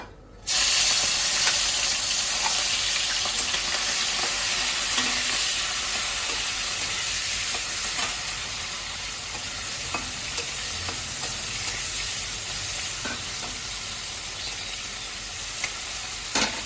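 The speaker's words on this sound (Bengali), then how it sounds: "চিংড়ি মাছটা নুন হলুদ দিয়ে মাখিয়ে রেখেছি। এটা একটু আমি ভেজে নেবো আগে" Shrimp coated in salt and turmeric fry in a pan with a dense, continuous loud sizzle and hiss that holds steady throughout, close up with occasional small crackles.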